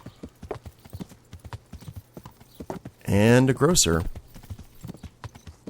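Steady hoofbeats of a walking horse clop close by in the medieval game Kingdom Come: Deliverance, running the whole time, while someone speaks briefly over them partway through.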